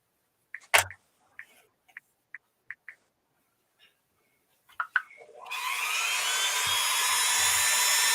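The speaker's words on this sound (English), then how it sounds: "Need to drill that hole a little deeper." A few scattered clicks and taps, then a power drill starts up and whirs continuously, close and loud for the last few seconds.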